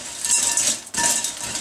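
A white chocolate mix for reindeer chow being stirred in a bowl, giving two bursts of brisk scraping and light clinking of the utensil against the bowl, close and fairly loud.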